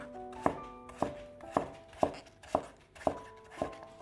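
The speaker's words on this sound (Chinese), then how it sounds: "用刀先给它切成小段，再切成厚片，最后给它切成1厘米左右的长条" A knife chops a peeled celtuce stem into strips on a board, eight crisp, evenly spaced strokes about half a second apart, close and distinct, with no talking.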